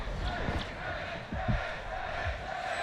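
An esports arena crowd at a VALORANT Champions knockout match between EG and EDG roars and shouts in rising bursts during a tense clutch round, with a voice talking underneath the noise.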